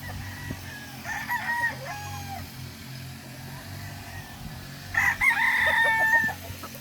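Stag roosters crow in two clear bursts, one near the start and a louder one later, mixed with clucking and faint farmyard background.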